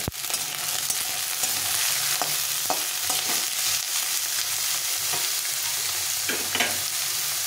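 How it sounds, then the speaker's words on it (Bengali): Finely chopped small potato pieces fry in hot oil in a home kitchen, giving a steady, close sizzle that runs throughout, with occasional scraping clicks from stirring. "আলুটাকে একটু ভেজে নেব"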